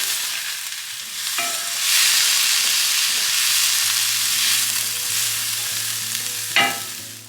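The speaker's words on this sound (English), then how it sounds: "A couple of tablespoons of apple cider vinegar to deglaze the pan." Apples and onions sizzle loudly in a hot pan as apple cider vinegar deglazes it, with a steady bright frying hiss and a couple of sharp utensil knocks against the pan, close up with no talking.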